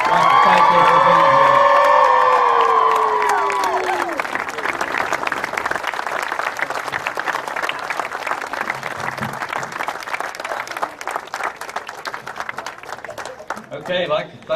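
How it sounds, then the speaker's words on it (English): A crowd cheers, whoops and claps at a race event, loud voices and children's shouts at first, then settling into sustained applause with people talking over it. "I'd like to thank everybody for that big round of applause for Marshall"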